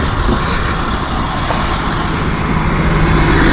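A Binghamton Engine One fire engine rolls past at a building fire alarm, a steady loud roadway rumble of a heavy vehicle with broadband traffic noise throughout, no voices.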